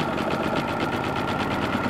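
A CAT INV4000 E inverter generator runs with a steady, dense mechanical hum and fast periodic pulsing, loud and close, with no pauses or talk.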